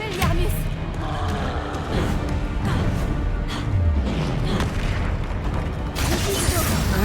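Spell blasts go off in the video game Hogwarts Legacy, loud booming bursts and crashes layered over a constant dense game soundscape, with players talking.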